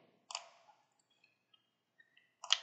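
Two sharp computer mouse clicks on an OK button, a single click near the start and another near the end, with faint small ticks between them in an otherwise quiet setting.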